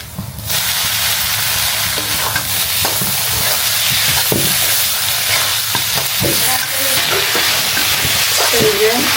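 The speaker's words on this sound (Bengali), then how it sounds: "এখন আমি শাকটা দিয়ে দিব।" Malabar spinach drops into hot oil with chili, garlic and onion, and a loud sizzle bursts up at once, then hisses on steadily with occasional stirring clicks, close by.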